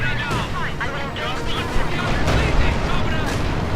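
Heavy mortar fire in Company of Heroes 2, dense booming impacts and gunfire crackling continuously in a busy battle soundscape, with commentary talk running over it.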